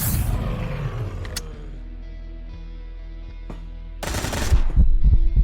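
Turret machine-gun fire in the video game Quasimorph: a loud opening burst, a low sustained hum with sparse sharp cracks, then another dense, heavy volley of rapid shots near the end.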